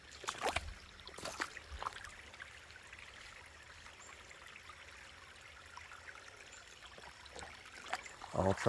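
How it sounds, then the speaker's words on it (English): Post-tropical storm runoff rushes down a stream toward a river as a steady broadband wash of flowing water, with a few clattering knocks and handling bumps near the start and end. "All tropical storm runoff"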